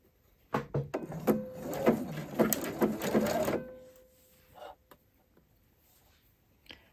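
A sewing machine runs in one steady burst of about three seconds, stitching a one-centimetre seam around a V-neckline facing, starting from a shoulder seam. It is fairly close, then stops, leaving a quiet room with a few small clicks.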